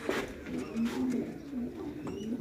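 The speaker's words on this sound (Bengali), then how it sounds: "দেখেন আমাদের এই জায়গায় কবুতর দেখছেন, কাতারের কবুতর" Large Qatari pigeons coo close by in soft, repeated throaty rolls with short breaks between them.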